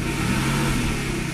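A warmed-up Mercedes V8 runs with a steady, loud engine drone and a slight rise in revs, heard close with no voices.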